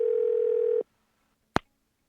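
After a number is dialed, a telephone line gives one sustained ringing tone through the handset that cuts off cleanly. Brief silence follows, then a single short, sharp beep.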